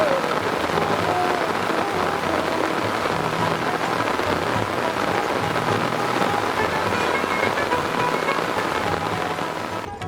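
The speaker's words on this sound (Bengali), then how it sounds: "শ্রাবণ মাস যেন থামছেই না বৃষ্টি।" Monsoon rain falls on open farm fields in a dense, even hiss and patter that carries on steadily throughout, loud and close, with no voices.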